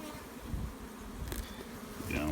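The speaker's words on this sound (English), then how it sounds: "Pop the top. Oh yeah, look at that. Full of bees." Honeybees in an opened hive box of a nuc colony hum in a dense, continuous buzz close by, with a brief knock partway through.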